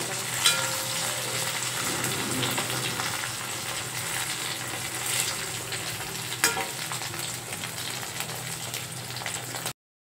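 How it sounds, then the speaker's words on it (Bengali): An egg fries in hot oil in a home kitchen, a steady close crackling sizzle that runs throughout with a few louder pops and spatters. "তো এখন এই চলে আসলাম ডিম ভাজা করতে।"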